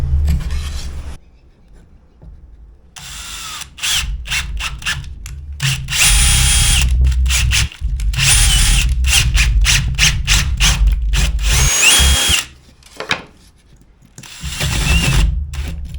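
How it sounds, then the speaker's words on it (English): A power drill whirs in repeated bursts, starting and stopping with short pauses between, loud and close, with a grinding, ratcheting edge as it bores a hole into wood. "I also probably should drill a finger hole."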